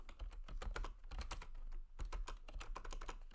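Rapid, uneven clicking of computer keyboard keys, quiet and close, with short pauses between bursts of typing and no talk.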